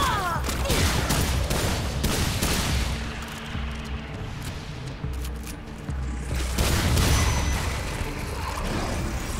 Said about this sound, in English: How about shotgun? Let's try that.